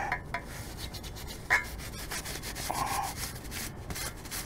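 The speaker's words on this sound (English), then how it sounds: "I'm gonna clean the flange first, stainless steel" A dirty stainless steel mast flange on a boat is rubbed clean by hand, soft scrubbing strokes in short bursts, close and fairly quiet with a brief squeak partway through.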